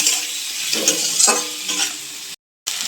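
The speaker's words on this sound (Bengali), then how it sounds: "এবার ভালো করে আমি নাড়াচাড়া দিয়ে সবজিটাকে হালকা করে ভেজে নেব" Vegetables seasoned with salt and turmeric stir-fry in a pan, a loud, steady sizzle with the scrape of stirring, then a sudden brief gap before the frying resumes.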